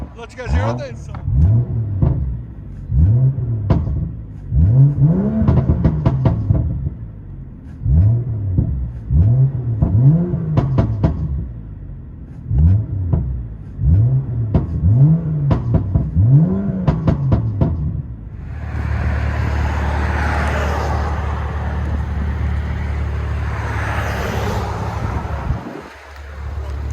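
A 2013 BMW 335i turbo with a straight-pipe exhaust revs repeatedly in sport mode, giving a string of rising and falling engine blips. It then settles into a loud, steady, rumbling drone that continues to the end.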